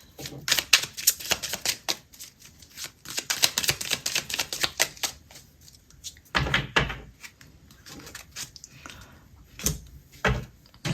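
Cards from an astrology deck are shuffled and drawn at close range, giving rapid papery riffling bursts, then separate slaps and flicks as single cards are pulled out, with no talking.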